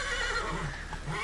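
A horse neighs in The Witcher 3, a loud close whinny with a faint clip-clop of hooves under it, heard alone.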